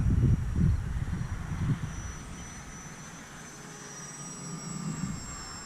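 A HobbyKing Cessna TTX RC model airplane flies with its takeoff flaps down, its thin electric motor whine passing steadily overhead at a distance under gusty wind rumble.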